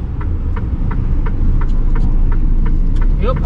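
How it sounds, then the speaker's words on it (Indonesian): Truck passing on a road in Germany, a steady loud low rumble and engine throb filling the clip alone, with faint rhythmic ticking on top. "ada truk."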